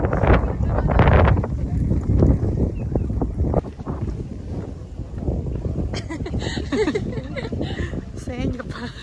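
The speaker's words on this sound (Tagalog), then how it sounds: "Super lakas ng hangin" Strong cold wind on a mountain hike buffets the microphone in heavy, rumbling gusts, with people talking close by throughout.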